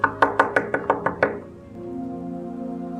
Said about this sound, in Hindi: कौन जालिम होगा जो इतनी सुबह सुबह हमारे कमरे का दरवाजा नॉक करेगा?